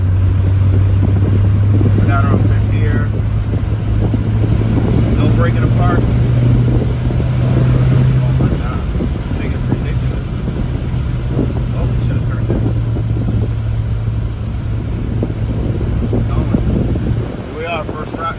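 VW Cabriolet with a 1.8T AWP engine swap cruising at about 75 mph in fifth gear, a steady low engine drone under heavy wind and road noise, with someone talking over it throughout.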